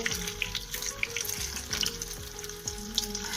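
Potato bread rolls with an egg coating shallow-frying in hot oil, a steady close sizzle with light crackling and a few soft clinks throughout, no voices.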